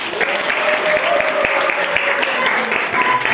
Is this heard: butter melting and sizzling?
no